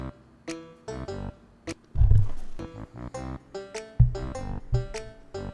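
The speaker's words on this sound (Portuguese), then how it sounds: "Os uivos do lobos estão cada vez mais alto." Wolves in the video game ARK give a series of close, loud, drawn-out howls and growling roars. They come in repeated bursts with short gaps between them.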